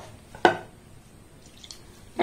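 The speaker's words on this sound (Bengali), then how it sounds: "এবার এখানে নিয়ে নিয়েছি জল, অল্প অল্প জল দেব, আর এই মিশ্রণটাকে আমি রেডি করে নেব।" Small amounts of water are added to a jalebi batter mixture, producing two brief, close splashes separated by a quiet pause.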